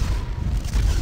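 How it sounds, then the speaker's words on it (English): A wind attack strikes an enemy in the PS2 fantasy action game Drakan: The Ancients' Gates, heard as a deep, steady rumbling boom that lasts about a second, loud and close, with no voices. "Use the wind attack."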